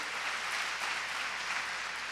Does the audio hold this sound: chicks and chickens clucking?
no